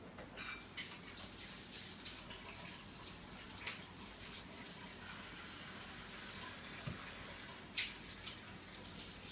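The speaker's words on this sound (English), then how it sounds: "I'm just going to wash my hands." A kitchen tap runs steadily as hands are washed, a continuous close splashing rush with small irregular bursts where the stream hits hands and sink, no speech.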